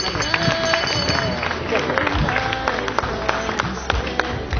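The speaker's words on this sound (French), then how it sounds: "Est-ce que vous pouvez applaudir très très fort pour le monsieur Mafka Diombo oyo à la vidéo?" Loud crowd applause and clapping at a tribute event, dense and sustained throughout with voices mixed in.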